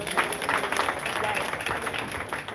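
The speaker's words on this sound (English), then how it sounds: "Please, a beautiful applause for St. Charles." A crowd applauds St. Charles College, Onitsha, at a live school prize-giving event, with brief dense clapping heard close and continuous, mixed with some voices.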